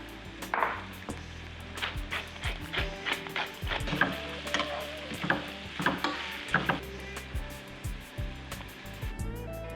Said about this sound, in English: I have some olive oil in a warm pan and I gently wilt the vegetables and season them with salt and pepper